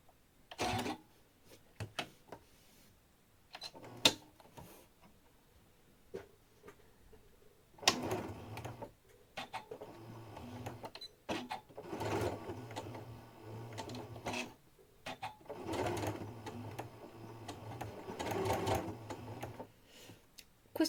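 A sewing machine with a double-feed walking foot stitches organza for a ball gown, running in several steady mechanical bursts of rapid needle clatter separated by brief pauses.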